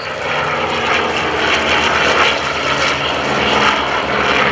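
A propeller-driven warbird, such as a Corsair, roars past at an airshow, a loud sustained engine drone with a throbbing low hum that holds steady throughout, no talking.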